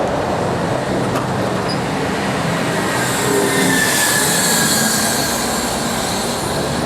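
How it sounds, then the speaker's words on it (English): Diesel trucks rolling past on an urban road, a steady broadband roar of engines and tyres that swells slightly midway and stays loud throughout, with no voices. "Bloody diesel trucks."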